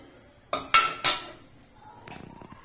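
Metal tumbler or pot pounding chilies on a large plate: three sharp, loud metallic strikes in quick succession, then softer scattered clinks and scraping that trail off.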